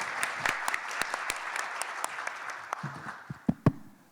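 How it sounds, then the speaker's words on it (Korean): Scattered applause greets a speaker at a Korean social value conference session on cause marketing, with individual claps standing out and tapering into a few louder final claps before it fades. "우리 먼저 김남호 대표님을 박수로 맞이하도록 하겠습니다"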